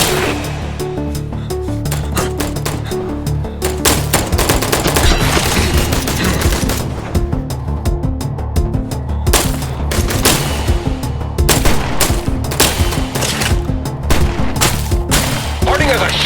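Dense, continuous gunfire and explosions from the video game I Am Your Beast, with rapid bursts and heavy booms filling the whole stretch at high, steady loudness.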